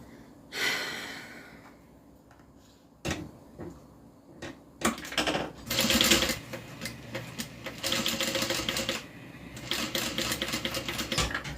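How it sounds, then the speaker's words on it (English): Sewing machine stitching a passport holder in short bursts of rapid mechanical clatter, separated by pauses with breathing and small handling noises, close and fairly quiet. "Then I'm going to sew it,"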